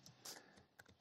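Typing on a computer keyboard: a short run of soft, quick keystroke clicks, faint and close, with no other sound.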